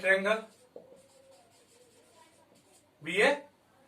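Pen or chalk scratches on a board during a geometry lesson on triangle angles, a few seconds of steady light scraping strokes, with someone speaking briefly before and after.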